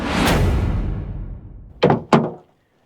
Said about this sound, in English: always have them close the passenger rear door